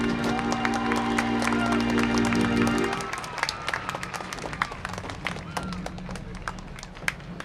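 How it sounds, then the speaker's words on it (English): Audience at a horse show clapping, a dense round of applause under an announcer's voice that thins into scattered, separate claps after a few seconds. "Would you give them all a welcoming round of applause?"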